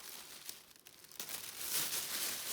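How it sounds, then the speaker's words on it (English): A plastic bag crinkles and rustles close by, soft at first, then louder and more crackly as dahlia tubers are pushed inside. "And then they all go into the plastic bag like this."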